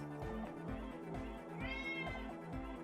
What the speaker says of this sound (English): She's a loud kitty.